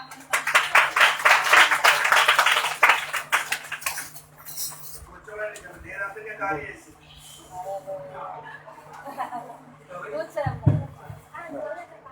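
An audience at a PYPA meeting claps loudly for a few seconds, then the applause fades into murmuring voices and clinking.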